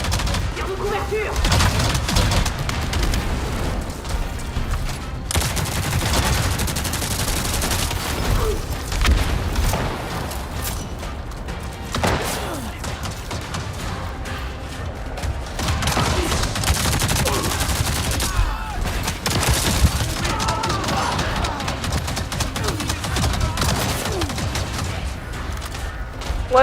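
Dense covering gunfire in a French-language shooter video game mission: near-continuous bursts of shots and booms fill the whole stretch, loud and close, with voices talking over it at times.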